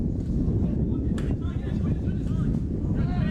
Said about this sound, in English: Getting very windy here at Plume.